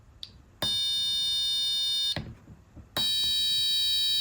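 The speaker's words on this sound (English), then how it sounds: "it'll play something on the piezo buzzer" An Arduino-driven piezo buzzer sounds two loud, shrill sustained tones, separated by a short gap, after a brief faint chirp.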